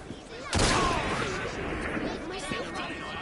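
Gunfire in the video game Assassin's Creed Syndicate, a sudden loud burst of shots followed by crashing impacts and a further report, with a voice speaking over the action.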